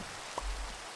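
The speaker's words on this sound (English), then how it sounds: "And actually, the rain noise." Rain falls in the Minecraft video game as a steady, uniform hiss of drops, moderately loud and unbroken, with one small tap partway through and no voices.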